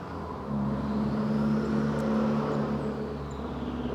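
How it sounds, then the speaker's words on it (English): A car passes by with a steady low engine rumble and road noise, swelling slightly then easing, moderately close. "we need a noisy car going by"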